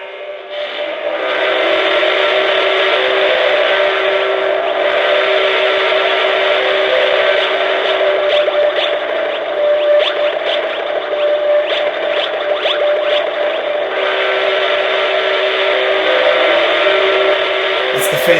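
A Lionel Phantom futuristic model train runs on a home layout with a loud, sustained whistle-like tone and motor hum lasting throughout, steady and close with slight wavering.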